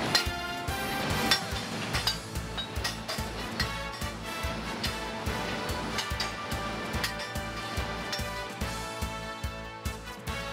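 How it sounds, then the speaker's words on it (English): A steady series of rhythmic metallic knocks from a boiler tube hammering system dislodging dust repeats over a constant industrial rumble in an 18 MW power plant. "The dust getting deposited in the tube bends is dislodged with the hammering system."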